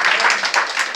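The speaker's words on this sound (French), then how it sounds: "On applaudit le Seigneur." A church congregation claps together in a brief, dense burst of applause during a sermon.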